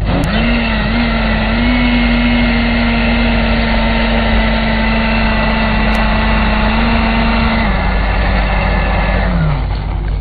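A blender motor whirs steadily and loudly for about nine seconds with a high whine, then winds down near the end.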